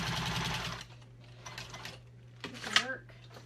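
A Juki 2000 QI sewing machine stitches a zippered pouch with a fast, steady mechanical whir that pauses and restarts, while faint background sounds surround it.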